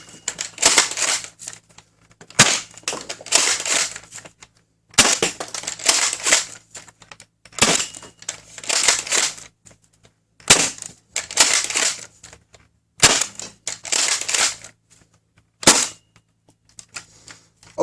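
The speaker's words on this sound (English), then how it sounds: "They make a nice pack sound when they impact." A Dart Zone MAX Stryker blaster fires foam darts in repeated bursts, each volley a sharp cluster of snapping shots and smacking impacts followed by brief pauses, loud and close with no voices.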